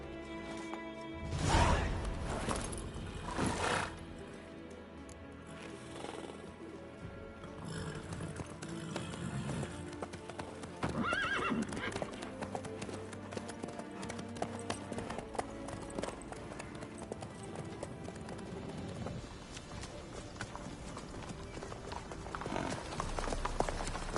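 Rhythmic clip-clop of horse hooves in the video game The Witcher 3: Wild Hunt, fairly close and steady, with occasional louder thuds and no talking.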